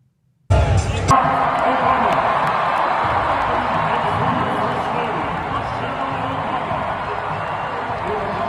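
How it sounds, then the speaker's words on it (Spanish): Crowd ovation and applause for Barack Obama at a political event, a loud, sustained roar of clapping and cheering that bursts in after a brief silence and holds steady throughout. "para que se escuche realmente ese aplauso a Barack Obama"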